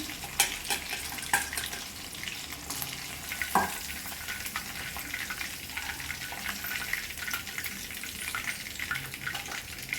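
Chicken pakodi frying in hot oil, a steady close crackling sizzle with occasional sharper pops and bubbling throughout, no voices.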